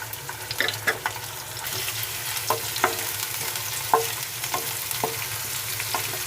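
A spoon stirring onion and curry leaves frying in hot oil, a loud continuous sizzle punctuated by regular scraping knocks of the spoon against the pan, close and without talk.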